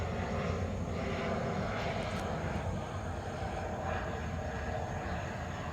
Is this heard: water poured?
no